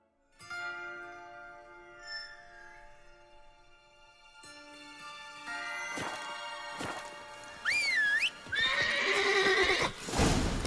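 Roach, Geralt's horse in The Witcher 3: Wild Hunt, clip-clopping along before letting out loud whinnies and neighs near the end, with soft ambient game sound underneath.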